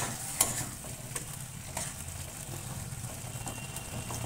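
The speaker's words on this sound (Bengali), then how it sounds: "এবার মশলাটা দিয়ে কষি" Bengali spiced paste stir-fried in a hot pan, a steady sizzle with scraping stir strokes and occasional sharper spatters, close and alone with no voices.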